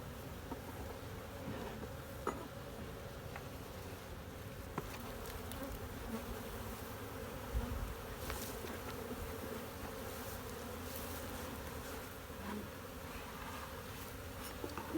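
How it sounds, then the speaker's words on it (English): A dense swarm of honeybees hums and drones steadily around an open beehive as bees are shaken loose, a faint, continuous buzzing with occasional soft bumps and knocks. "now I'm going to try to shake these bees out,"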